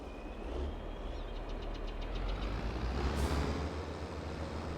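A New Holland tractor engine runs in Farming Simulator 22 with a low, steady rumbling drone and faint mechanical knocking, heard up close with no talking.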